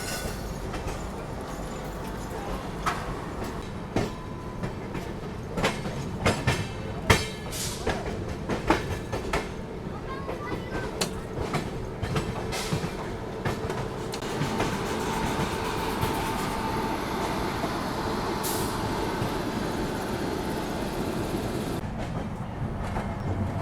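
Paschim Express rolling into New Delhi station, a steady close rumble of wheels and carriages with clickety-clack joints and occasional metallic squeals and clanks over the track, continuous throughout.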